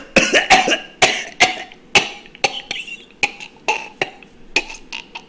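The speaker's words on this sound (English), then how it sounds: "There was a lot of that open mouth coughing that turns into choking." Harsh open-mouthed coughing from a person ill with COVID, a series of about a dozen close, loud, raspy bursts in uneven clusters, some doubling up quickly, with strained breaths between.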